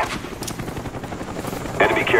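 Cobra attack helicopter from the Call of Duty: Black Ops game on the WMD map, with a steady rotor thrum throughout and a brighter burst near the end, mixed with other game sounds.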